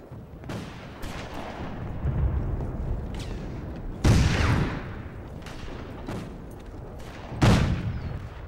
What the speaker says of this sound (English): Use your sniper rifle to pick them off.